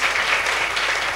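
An audience applauds for children at a French coaching event, a steady, dense wash of clapping that stays even and fairly loud for the whole short stretch, with no break.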